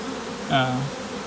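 A honeybee from a swarm settled in a swarm box gives one short, close buzz that rises and fades in under half a second against a quiet background.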